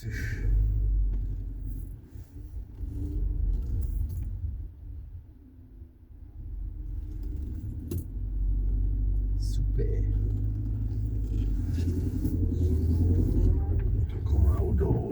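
A Volkswagen Golf 6 with a TSI engine idles with a low, steady rumble that carries through the whole stretch, dipping briefly before settling, while people talk quietly nearby.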